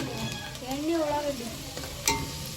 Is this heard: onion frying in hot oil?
yes